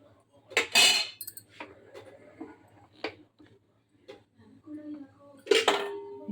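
Metal pressure cooker lid being fitted and closed while sprouted-gram sambar cooks, a few sharp clanks and clicks of metal spaced irregularly, close, with a voice speaking in between.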